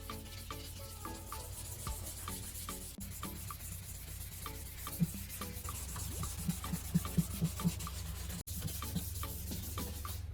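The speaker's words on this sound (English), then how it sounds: "Keep the sandpaper wet, move it evenly, and do not stay in one spot for too long." Wet sandpaper works over an aged, foggy plastic car headlight in quick back-and-forth strokes, a soft rhythmic scratching and rubbing up close, steady and without talk.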